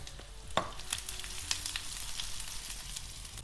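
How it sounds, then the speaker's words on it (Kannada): Whole spices (coriander seed, pepper, cinnamon, cloves, bay leaf) and fennel fried lightly in a pan for chicken sambar, giving a low, even sizzle with a few scattered taps and scrapes of stirring, quiet and close, with no speech. "ನೋಡಿ ಗೈಸ್, ಈ ಥರ ಫ್ರೈ ಮಾಡ್ಕೊಳ್ಳಿ ಲೈಟಾಗಿ."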